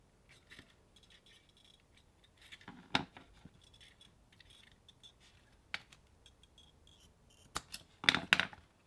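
Scissors trim padding material during a Roomba battery upgrade, giving sparse, quiet snips and small clicks spread across a hushed workspace with no talk.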